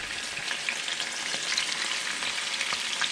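Pieces of cobia fish fry in hot oil with a steady, close crackling sizzle that holds even throughout, with small pops scattered on top and no voices.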